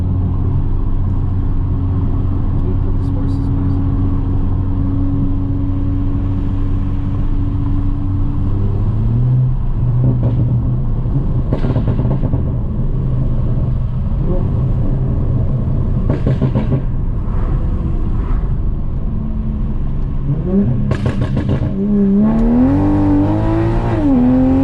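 A tuned 2020 Toyota Supra accelerates hard in manual mode, its engine droning loud and steady, then revving up through a gear change with rising pitch sweeps toward the end.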